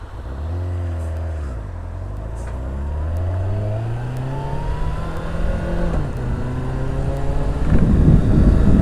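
A lorry's engine drones and shifts pitch as it passes nearby on a road at traffic lights, with rising rumble and road noise toward the end.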